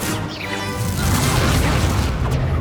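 Confringo fire spell bursts in a Hogwarts Legacy battle, a loud booming blast swelling and sustained over rumbling combat noise, dense and continuous for a few seconds.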